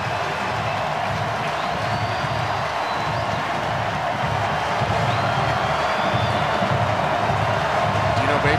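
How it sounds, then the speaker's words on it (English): Clemson football stadium crowd getting loud during a 2020 Syracuse at Clemson college game, a dense sustained roar of cheering and shouting from a partly filled stadium, with commentators talking over it. "It's really the first time we've heard this crowd get into it the entire day."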